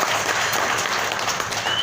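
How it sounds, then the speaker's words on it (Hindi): Audience applause fills a hall at a business leadership event, steady dense clapping throughout with a faint crowd murmur, loud and continuous with no talk over it. "सो आप सब मास्टर्स को मैं जोरदार तालियों के साथ आपका स्वागत करना चाहूंगा।"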